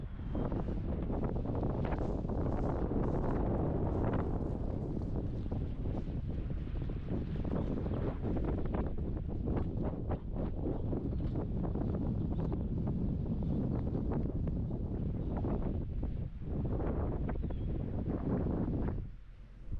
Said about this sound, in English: Might be a little windy.